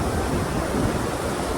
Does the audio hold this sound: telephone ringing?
no